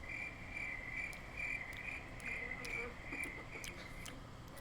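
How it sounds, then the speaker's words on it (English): Crickets chirp steadily in a continuous high pulsing trill played back through a Google Assistant smart speaker, with faint sharp clicks scattered over a low background hum and no talking. "hey Google, can you chirp like a cricket?"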